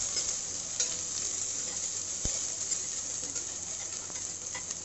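Sliced onions sautéing in a pressure pan, giving a steady, fairly loud sizzle and crackle throughout with a few sharp pops and no talking.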